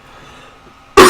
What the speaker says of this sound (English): got a bit of a cough today